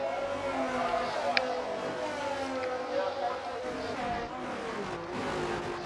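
Formula 1 cars racing on the Australia track in the F1 23 video game, with engines droning and shifting in pitch under continuous commentary from a race broadcaster.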